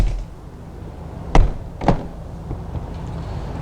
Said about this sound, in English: We'll go ahead and close the doors here.